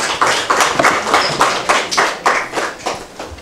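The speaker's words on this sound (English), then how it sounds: "can you give them a round of applause?" An audience claps briefly in a quiz competition hall, the applause sounding as a run of sharp, fairly close, uneven claps.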